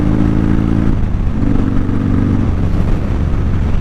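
A motorcycle ridden on the road, its engine droning at low revs as the rider shifts gears early and slowly, with a brief dip between gears before the note resumes, steady wind noise underneath.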